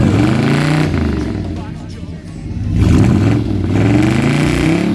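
A classic air-conditioned convertible at a car show runs close by, its engine revving up and down in loud swells that briefly dip and build again, with voices over it.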